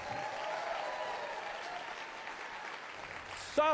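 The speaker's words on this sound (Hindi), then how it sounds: "चलिए भी और जोर से ताली बजाएं।" A church congregation at a Hindi worship service clapping steadily together, a dense even patter of many hands that eases slightly before a short voice breaks in at the very end.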